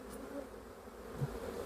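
A swarm of honey bees being smoked down into a nuc box gives a faint, steady low buzzing hum, with no voices.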